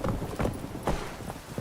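Video game horse galloping in The Witcher 3, fast rhythmic hoofbeats clip-clopping close and steady across the whole moment.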